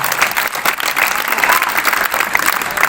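An audience at a Hindi poetry recital claps together, a dense, steady patter of many hands that goes on for about three seconds with no talking.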